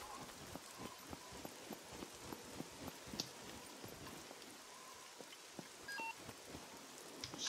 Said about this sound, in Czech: Furt tu teda prší, což není úplně fajn